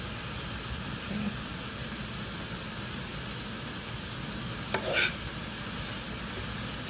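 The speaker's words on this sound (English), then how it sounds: "this is the way how I roast my sesame seed" Sesame seeds roast in a pan with a quiet, steady dry hiss, and a brief scrape of stirring stands out near the end.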